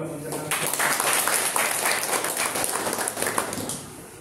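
Applause from an audience at a college lecture series, a dense patter of clapping starting after a brief pause and continuing steadily, with a voice talking over it.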